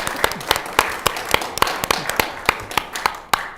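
People at a school committee meeting give a round of applause: a handful of distinct, fairly close hand claps at a brisk, slightly uneven rhythm that dies away near the end.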